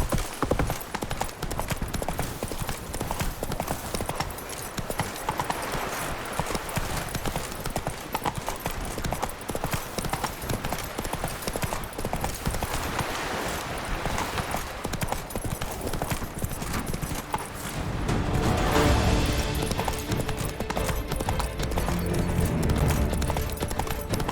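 Roach, a horse in The Witcher 3: Blood and Wine, gallops steadily with a continuous rhythmic clip-clop of hooves, close and loud, running the whole way with a surge of wind-like rushing toward the end.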